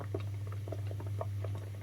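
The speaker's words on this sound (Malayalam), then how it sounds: "വെള്ളം പൊട്ടുന്ന സൗണ്ട് നിങ്ങൾ കേൾക്കുന്നില്ലേ" Homemade ghee simmers on a low flame as leftover water crackles in it, giving quiet, irregular pops and soft bubbling over a steady low hum.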